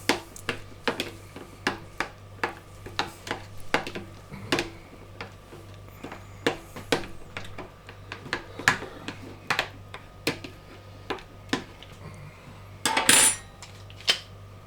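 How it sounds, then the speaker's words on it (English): A spoon stirs dill into a sauce in a pan, making a run of regular sharp metal taps and scrapes with a brief burst of clatter near the end, close and clear with no voices. "Give it a good old stir, mix it in."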